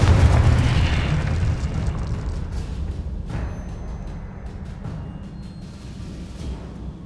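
A Confringo blasting spell in the Hogwarts Legacy wizard game bursts with a loud, deep boom that rumbles and slowly decays over several seconds, with a few faint crackles and thuds in the tail.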